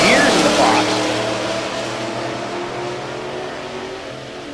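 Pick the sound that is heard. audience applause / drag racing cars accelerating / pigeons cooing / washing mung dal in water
drag racing cars accelerating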